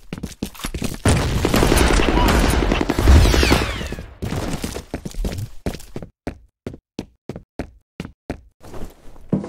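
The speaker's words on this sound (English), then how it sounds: "Grenade out!" A grenade blast in the shooter game F.E.A.R. Combat: a loud, dense burst of explosive noise and rumbling gunfire for a few seconds, followed by a run of sharp, evenly spaced footsteps or impacts.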